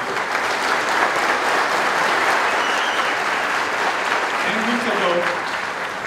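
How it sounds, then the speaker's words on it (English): A large audience at a basic combat training graduation ceremony claps in a sustained, even round of applause for military veterans that fills the whole stretch, with a voice faintly audible near the end. "please join me in a round of applause for our military veterans"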